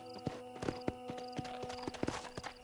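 Horse hooves walking in Red Dead, a steady clip-clop rhythm of hoofbeats at walking pace, fairly quiet over a faint humming background.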